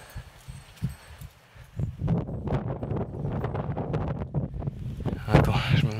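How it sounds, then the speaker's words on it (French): Gusty wind buffets the microphone outdoors at the temples of Bagan, a steady low rumble under someone talking continuously, swelling louder toward the end. "je me mets un peu à l'abri du vent"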